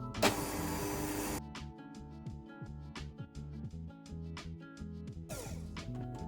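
An electric whisk beats egg whites with caster sugar, a steady motor whine with rhythmic rattling of beaters against the bowl and a brief louder burst at the start, no voices.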